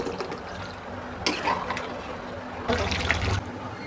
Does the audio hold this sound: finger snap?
no